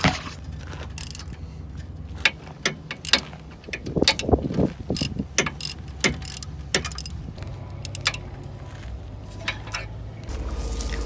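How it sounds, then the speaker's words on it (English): A ratchet with a 17mm socket and extension tightens the four hub bolts securing a wheel hub assembly to the knuckle on a Nissan Juke, giving close, irregular clicks and metallic knocks with scraping in the middle. "Using a 17mm socket, ratchet, and extension, tighten down the four bolts, securing your hub to the knuckle."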